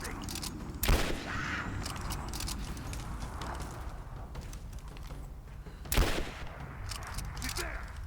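Gunfire erupts during a Rise of the Tomb Raider firefight, with two heavy bursts standing out over a dense stretch of rapid shots and scuffling, while voices call out in the background.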